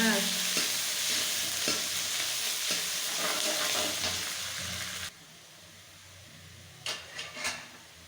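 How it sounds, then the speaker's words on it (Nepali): Onions sizzle and crackle in hot oil with stirring scrapes, then the frying quiets to a softer hiss with a few brief clatters. "प्याज हालेर यसलाई भुट्नु होला"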